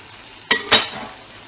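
Onion and carrot sizzling in a frying pan while being stirred, with two sharp scraping strokes of a utensil close by over a low steady sizzle, no talk.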